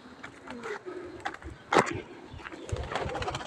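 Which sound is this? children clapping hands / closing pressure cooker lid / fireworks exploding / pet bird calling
pet bird calling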